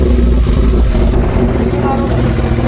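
A superbike's exhaust rumbles low and steady at close range, with a continuous engine drone and no distinct revs, while wind rushes past.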